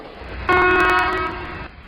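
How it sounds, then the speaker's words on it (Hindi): A single short Indian Railways train horn blast from the driver, loud and close, with a steady harmonic tone lasting about a second over low rumbling background. "ड्राइवर जब एक छोटा हॉर्न देता है तो पीछे गार्ड को तैयार रहने का संकेत देता है।"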